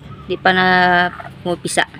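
Loud, close calls from chickens: a long wavering squawk followed by shorter clucks, with a voice speaking briefly between them.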